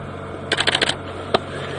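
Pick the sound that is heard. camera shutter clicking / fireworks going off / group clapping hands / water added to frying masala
camera shutter clicking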